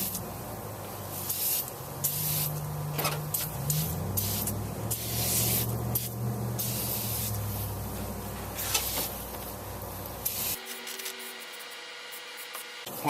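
Aerosol tire foam cleaner hisses onto a cold car engine in long, close, loud blasts that run almost without pause, mixed with faint rubbing and clatter before the spray cuts off near the end.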